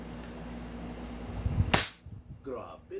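Airsoft L96 sniper rifle firing a single sharp crack indoors after a steady background hum, followed by a short voice.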